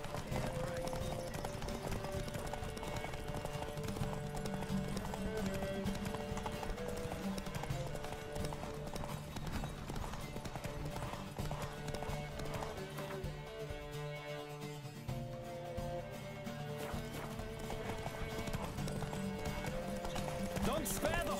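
Horse galloping in the video game The Witcher 3, rhythmic clip-clop hooves running steadily through a loud, dense game soundscape with music and voices layered over it.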